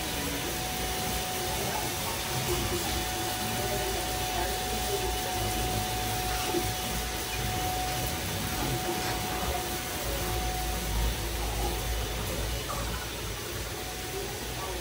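A small child runs a vacuum cleaner around a home, producing a steady, continuous motor whir with a faint tonal hum that stays level throughout.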